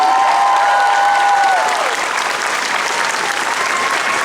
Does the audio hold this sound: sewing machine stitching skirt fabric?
no